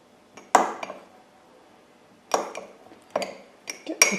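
A utensil clinks and scrapes against a mug while egg yolks and grated parmesan are stirred together for carbonara, in a few separate bursts of clatter with quiet gaps between, up close and with no talking.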